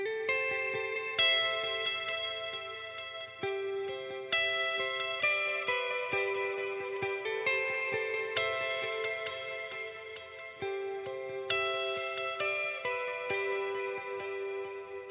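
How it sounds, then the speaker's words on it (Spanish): An electric guitar run through a Line 6 Helix with stereo delay and an added ambient reverb picks a melodic line, each note ringing into repeating echoes and a soft wash of sustain, with no voices. "si yo le añado una reverb"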